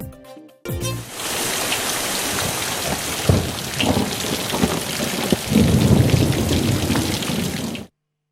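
Heavy rain pours down steadily, with thunder rumbling through it and a louder crack near the end, before the sound cuts off abruptly.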